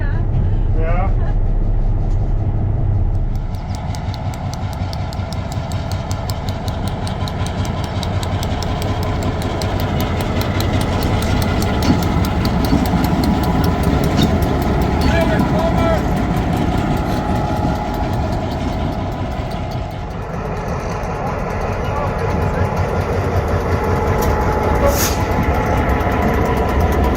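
Western Pacific locomotive at a railway museum, a heavy diesel engine rumbling steadily while running and moving, with rhythmic clatter and a brief higher tone near the end, loud and close throughout.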